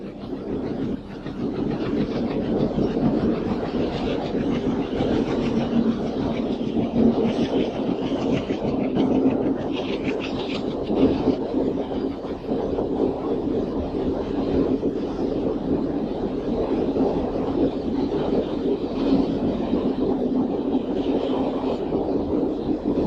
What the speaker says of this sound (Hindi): यहाँ पुल भी है और रेलगाड़ी भी, पुल भी है, रेलगाड़ी भी।